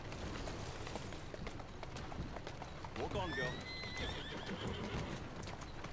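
A horse in the Assassin's Creed Syndicate video game, pulling a carriage on a street, gives a clear whinny midway, with hoof clip-clop and background game noise throughout.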